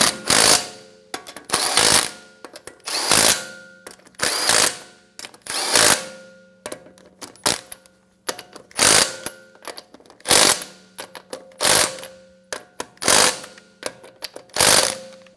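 An impact wrench or power tool runs in repeated short bursts of about a second each while tightening wheel lug nuts on a 2013-2017 Honda Accord after a front strut and spring assembly replacement. The bursts are loud and close, with a steady hum between them.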